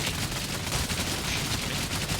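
Enemy gunfire in the video game Outriders, a dense, continuous barrage of overlapping shots that fills the whole stretch at high volume with no pauses and no voice.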